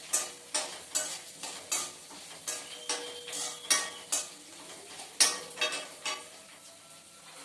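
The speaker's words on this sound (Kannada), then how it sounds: "ಎಲ್ಲನೂ 2 ನಿಮಿಷ ಹುರ್ಕೊಳ್ಬೇಕು" Coriander and coconut are dry-roasted in a pan, a spoon scraping and stirring in a steady rhythm of sharp clinks with faint crackling, close and alone.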